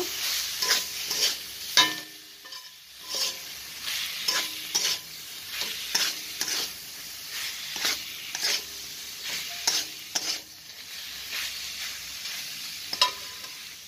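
Sauces and ingredients being mixed in a frying pan, with repeated scraping and stirring strokes in an irregular rhythm over a light sizzle, close and without talk.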